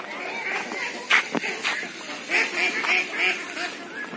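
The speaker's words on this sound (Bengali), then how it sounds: "এখানে বড় কিছু হাঁস আছে তো এগুলা আমি আমার পুকুরে এদেরকে দেখি নামা দিই" Large ducks being released into a pond give repeated quacks and honk-like calls, near and fairly loud, in short clustered bursts over soft background ambience, with a brief splash-like thump midway.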